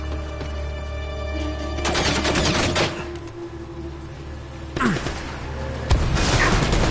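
Rocket launcher fire in a third-person shooter game cracks out as several sharp blasts and crashing impacts, with a loud burst near the start, more around the middle and a final hit near the end, over a steady background hum.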